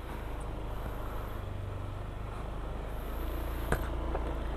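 A customized Honda Click 125i scooter on a road test ride, its quiet engine humming low and steady beneath broadband road and wind noise, with a brief sharp tick near the end.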